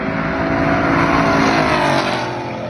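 A blacked-out Camaro drag racing another car, its engine roaring loud and near in a rising, strained pull before easing off slightly at the end.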